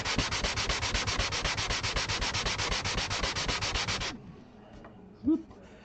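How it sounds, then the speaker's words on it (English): Rapid, rhythmic back-and-forth sanding of an epoxy finish on an acoustic guitar, loud and close for about four seconds, then stopping abruptly, followed by a short knock. "Keep sanding, brother."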